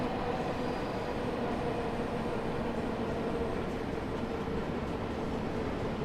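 An underground train runs through a tunnel in the Train Sim World 3 video game, a continuous loud rumble and rattle of wheels and carriages with no voices.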